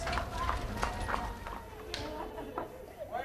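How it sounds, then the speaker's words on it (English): Horses pulling a delivery van on a street in Cuba clop along with uneven hoof strikes, fairly close, among other street noise and a voice talking over them. "When it finally arrives, the delivery van is drawn by horses."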